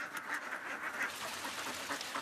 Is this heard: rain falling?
no